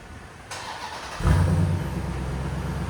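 A Dodge Durango SRT 392 with its 6.4L HEMI V8 and stock factory exhaust cranks and fires up, settling into a deep, steady idle rumble heard close by with no talking.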